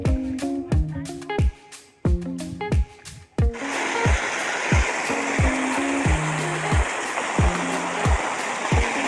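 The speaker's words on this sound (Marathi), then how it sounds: "हे पहा पाणी भरणं चाललं" Irrigation water pours into a wheat field from a distant well, a steady rushing and gurgling that swells in after a few seconds, with music playing over it throughout.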